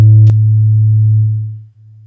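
A modular synthesizer holds a loud, steady low sine tone shaped by amplitude modulation, opened by a brief click, then fading and dipping before resuming quietly.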